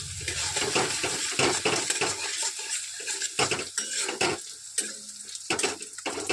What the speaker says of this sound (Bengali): এবার দিয়ে আমি জল দেবো দিয়ে একটু নাড়াচাড়া দেবো